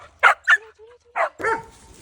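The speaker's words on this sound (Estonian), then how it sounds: "Seal alati hauguvad koerad." Dogs bark at an animal shelter during a walk: a few sharp, fairly close barks in quick succession, followed by a longer whimpering, yelping bark at the end.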